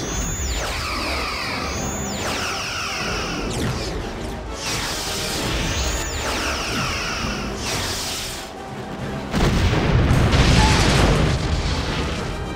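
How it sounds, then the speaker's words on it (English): Starship weapons fire and explosions in a sci-fi space battle: repeated swooshing weapon blasts and rolling booms, loud and steady, swelling into a heavier explosive barrage near the end. "Open fire on the battleship."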